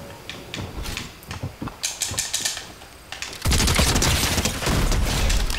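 Shotgun gunfire in Fortnite: a series of sharp clicking mechanical shots in quick rhythm, then a loud sustained burst of blasts and noise filling the second half.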